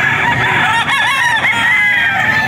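A bullstag rooster crows at a farm, one loud, close, drawn-out cock-a-doodle-doo filling the whole moment with no talk over it.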